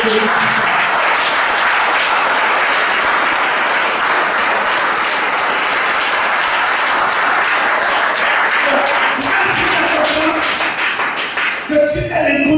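Church congregation applauding and acclaiming in a thick, continuous wave of clapping and cheering, loud and close throughout, thinning slightly with a few voices emerging at the very end.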